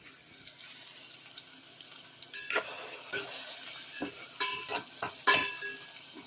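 A spoon stirs winter soup in a pot on a lowered flame, with scattered scraping knocks and wet sloshing that grow more frequent and louder toward the end, alone without talk.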